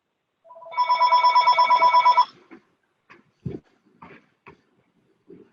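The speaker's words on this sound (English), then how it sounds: "We have a question coming in by phone." A telephone rings in a quiet room during a Medicare waiver webinar, a single long electronic trill lasting about a second and a half, followed by faint clicks and small handling noises.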